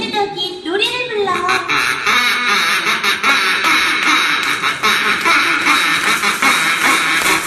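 Donald Duck-style quacks are performed as a sung, rhythmic run in a live sound-effects storytelling show, loud and close, a voice imitating the duck throughout.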